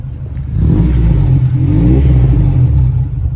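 A JDM Honda Integra engine with a custom Vibrant exhaust is revved up, a loud deep rumble swelling then easing back as the throttle is tapped, heard up close.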